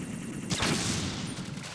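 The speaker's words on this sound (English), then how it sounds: "That's a loud explosion." Explosion and gunfire in the video game Metal Gear Solid 2: Sons of Liberty: a sudden loud blast erupts after a steady noisy backdrop, followed by a dense, sustained roar of rapid shots.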